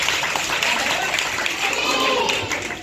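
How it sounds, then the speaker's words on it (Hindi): Classroom students clapping for a correct answer, a burst of many hands applauding together at moderate loudness, mixed with voices. "शाबाश, जोरदार ताली बजाइए।"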